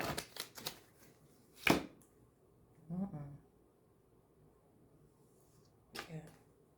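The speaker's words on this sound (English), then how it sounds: "this is going to be my last shuffle" A deck of tarot cards is shuffled in short, sharp riffling bursts separated by quiet gaps, close and fairly soft, with some brief talking.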